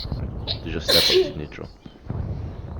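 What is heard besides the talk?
sneeze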